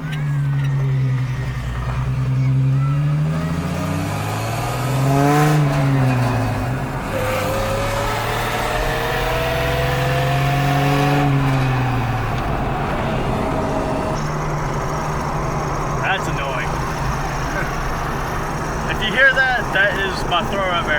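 A failing throw-out bearing in a Mustang transmission squeals with a wavering, pitch-sliding whine over a running engine idle. The noise is close and goes on for many seconds, fading near the end, with a voice heard briefly over it.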